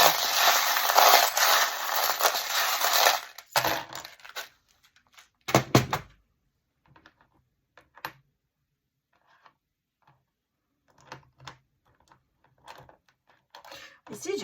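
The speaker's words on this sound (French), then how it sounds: "on va la garder les breloques. Attention, c'est un peu bruyant." Divination charms are shaken together in a loud, dense rattle for a few seconds, followed by scattered clicks and clacks as the small trinkets are handled and set down.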